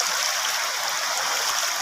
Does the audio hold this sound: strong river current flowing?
yes